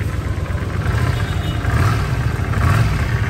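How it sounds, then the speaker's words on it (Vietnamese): An old Honda GL400 motorcycle engine runs with a loud, steady low rumble and a slightly uneven throb, close by with no talking. "nhấn là nổ máy"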